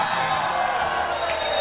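A rally crowd in Malaysia cheers and applauds in a dense, steady wash of clapping and voices that holds evenly throughout the short stretch.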